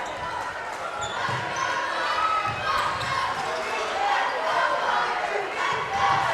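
A crowd at a high school basketball game roars steadily, on its feet and cheering, with sneaker squeaks and a ball bouncing underneath as a commentator talks over the noise.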